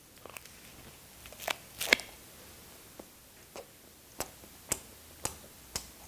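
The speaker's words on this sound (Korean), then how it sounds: "붕어빵을 먹어보도록 하겠습니다" Close, crisp crunching bites of a fish-shaped pastry (bungeoppang), several sharp crackles spaced irregularly over quiet moments, like chewing something crunchy.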